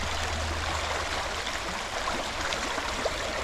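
Fast-flowing stream water at a trail crossing near a beaver dam, a steady broadband rush and gurgle close by, continuous for a few seconds with no voices.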